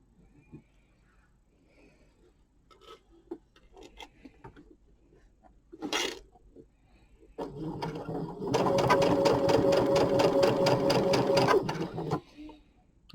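A sewing machine runs in a steady, loud stitching burst lasting several seconds near the end, preceded by quieter handling noises and a brief rustle, with no voices over it.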